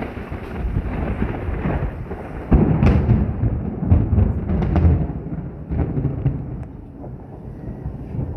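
Deep rumbles of thunder roll through steady rain and wind, swelling in a few heavy booms before fading.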